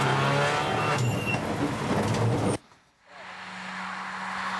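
Rally car at race speed during the 2012 Bosch Super Plus Rallye, heard from the onboard camera: a loud engine roar that cuts off abruptly, a near-silent gap, then a rising rumble.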